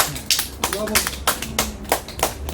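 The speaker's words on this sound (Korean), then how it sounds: "박수!" A small indoor group claps in brief, uneven bursts at a cultural visit featuring chalkboard ink-style painting, with voices talking over the applause.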